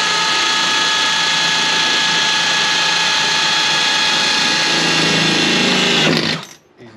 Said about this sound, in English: when I'm drilling through the hood, holds the paint intact